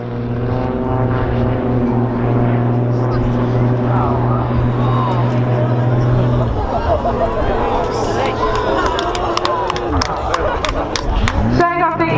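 Extra 300 aerobatic planes of the Blades display team at an air show, a steady loud propeller engine drone that shifts as the pair throttles back into a tail slide and powers up again, with a commentator talking over it.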